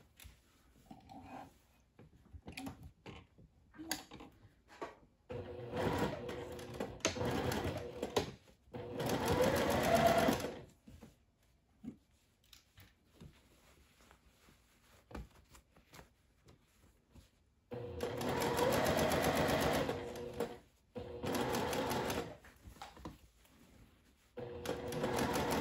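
A sewing machine stitches a ruffled citrus sundress with a pintuck bib front, running in several separate bursts of a few seconds each, with clicks, fabric handling and pauses in between.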